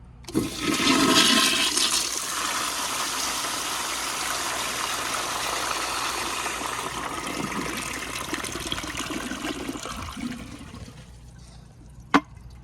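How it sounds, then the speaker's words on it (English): A 2000 American Standard Colony toilet on a flushometer valve flushes loudly, a strong rushing burst that settles into a steady gush of water draining and refilling for about ten seconds, then stops with a sharp click. "we're gonna give it another flush to give it out the rest of the bowl"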